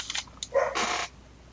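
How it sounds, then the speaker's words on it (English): A dog barks nearby in a few short, sharp yelps followed by a longer bark, moderately loud in a quiet indoor room, with no talking. "So, oh, that dog."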